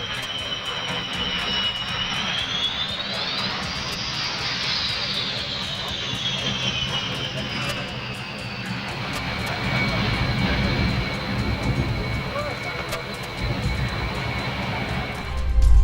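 Russian Knights aerobatic jet aircraft at the Slovak International Air Display at Bratislava Airport roar overhead with a loud, sustained engine rumble and a whining tone that rises and sweeps past, over a steady background of crowd noise.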